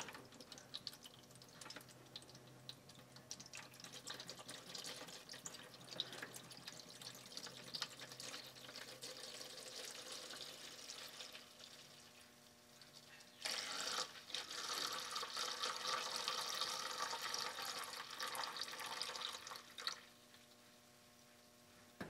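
Diesel fuel used to flush a 1953 Doall band saw drains out as a steady trickle and drip, and the flow becomes a fuller, louder pour partway through. No one speaks.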